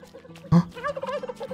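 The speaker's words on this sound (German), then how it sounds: "Habe ich da gerade einen Truthahn gehört?" A turkey gobbles once, sharp and close, in the survival building game Tribe: Primitive Builder, followed by a softer warbling trail of calls with no talk over it.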